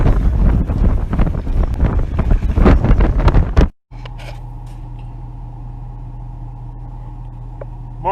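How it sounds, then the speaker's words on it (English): Wind roars and buffets a microphone outdoors at a racetrack, loud and gusty for about four seconds, then cuts off into a steady low hum with no talking. "Let me walk out in the wind."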